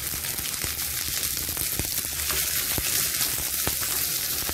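Curry leaves and dried chillies frying in oil with shallots for a buttermilk kuzhambu tempering make a continuous close sizzle, with sharp crackles and pops scattered throughout.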